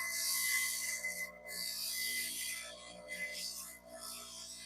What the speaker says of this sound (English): I'm also on my high speed grinder.